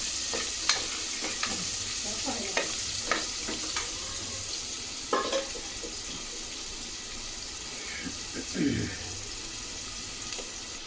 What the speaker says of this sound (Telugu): ఉల్లిపాయలు అయితే వేసేసినాను ఇలా తిప్పుకోవాలి